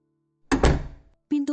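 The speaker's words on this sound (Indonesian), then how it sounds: "Pintu utama ditutup oleh Nanda dengan keras." A front door slams shut with a loud, heavy thud that rings and decays over about half a second, followed by a brief tonal bump, with no talk.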